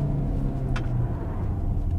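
A 2021 DS 4 Cross PureTech petrol car accelerating, a steady low engine rumble heard from inside the cabin, with a brief higher whoosh partway through.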